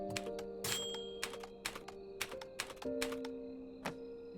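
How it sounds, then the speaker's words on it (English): Keys struck on a typewriter in the game Undusted: Letters from the Past, about half a dozen crisp clacks spaced irregularly over soft musical tones, with a faint bell-like ring early on. "press the typewriter key 5 times"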